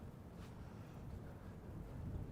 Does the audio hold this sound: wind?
yes